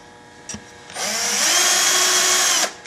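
A power drill enlarges a hole in a part during assembly, starting after a short click, then whirring loudly and steadily for nearly two seconds before stopping abruptly.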